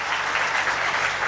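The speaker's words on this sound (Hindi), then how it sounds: "एक बार तालियों के साथ स्वागत करें।" Audience applause welcoming a candidate at a Takhatpur assembly election debate, a steady, dense wash of clapping that stays even throughout the short stretch.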